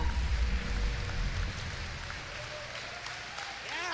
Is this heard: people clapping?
yes